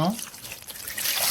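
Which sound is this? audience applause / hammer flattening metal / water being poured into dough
water being poured into dough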